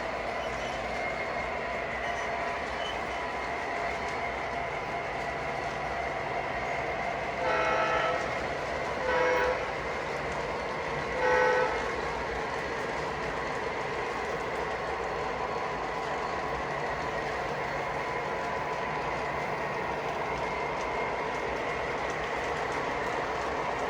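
Model trains running on a layout, a continuous rolling rumble with three short horn blasts in the middle, fairly close, with no talking.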